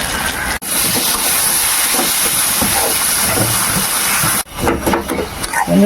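Kashmiri chilli, cumin powder and turmeric sizzle in hot oil in a pan for a tuna fish kalia. A steady, loud hiss runs close and unbroken, cut off briefly twice.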